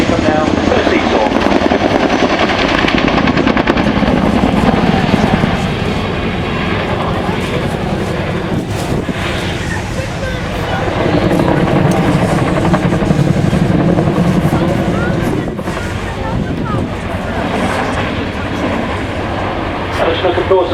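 An RAF Chinook twin-rotor helicopter flies a display at the 2011 Waddington airshow, its deep rotor thump and turbine roar loud and continuous with slow swells, while a commentator talks over the public address.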